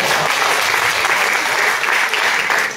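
An audience applauds loudly after a song at a music program, dense sustained clapping that fills the whole stretch at a steady level.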